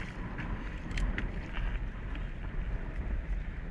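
Wind buffets the microphone while fishing from a boat, a steady rushing roar with gusty thumps and rumbles, no voices.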